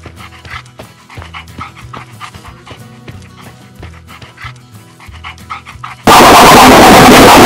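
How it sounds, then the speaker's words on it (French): Dog-like panting and whimpering noises from zombies chasing the player in the video game ExperimentZ repeat in quick bursts, ending in a sudden loud burst of static noise. "le bruit des zombies quand ils te poursuivent, que c'est le même bruit qu'un chien"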